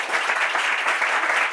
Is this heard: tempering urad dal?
no